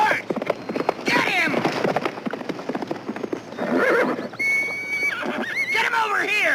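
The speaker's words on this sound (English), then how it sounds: "Stop that horse! Stop him! Hold it down! Get that horse!" A loose horse neighs and whinnies while its hooves clatter in a run, loud and close amid a chaotic scene on a 1970s detective drama set, with shouting voices mixed throughout.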